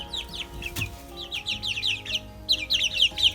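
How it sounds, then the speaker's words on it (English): A little farm chicken clucks and chirps in quick, high bursts, close and fairly loud, with short pauses between the calls and no talk. "Is this not an adorable little chicken?"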